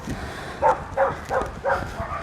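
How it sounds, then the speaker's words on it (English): A dog gives a few short barks at a distance in a backyard garden, four or five spaced yaps over quiet background. "Dog barking."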